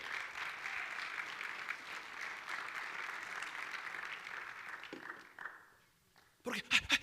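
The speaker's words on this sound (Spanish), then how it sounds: "Denle palmas al Rey" Faint congregation applause in a church service, steady clapping that stops abruptly near the end, followed by a brief loud sound.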